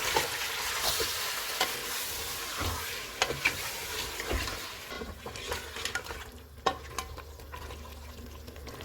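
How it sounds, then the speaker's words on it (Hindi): Mutton with ginger-garlic paste sizzles and fries steadily in a hot pan while a spoon stirs and scrapes it now and then, with no talking. "चूल्हे को खोल रखेंगे और इनको 4 से 5 मिनट तक भूनेंगे।"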